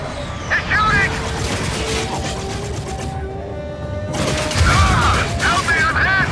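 Enemy gunfire erupts in the Xbox 360 game Dark Void, dense rattling bursts of shots with explosive booms, loud and continuous apart from a brief lull, amid game voices.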